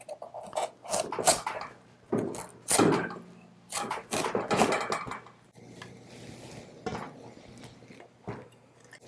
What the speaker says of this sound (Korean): 이 골 짓는 대로 칼을 넣어 갖고 이렇게 더 잘 자르세요